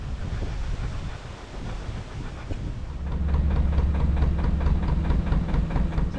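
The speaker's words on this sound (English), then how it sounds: "And it's very windy." Wind buffets the microphone with low, rumbling gusts beside a narrowboat in winter, growing stronger and steadier partway through, with no voices.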